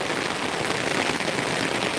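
Heavy rain pours down in a dense, even, continuous hiss, moderately loud and steady throughout, with no voices.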